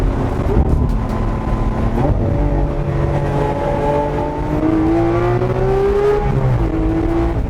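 A Lamborghini Aventador SV V12 revs and accelerates hard, its engine tone climbing through repeated rising sweeps with brief shift dips, loud and close throughout.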